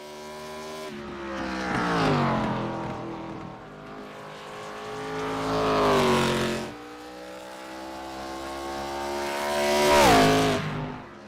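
ARCA race cars turn qualifying laps at Richmond, with three separate passes each rising to a loud engine roar and then fading, the pitch climbing under acceleration and dropping away as each car goes by.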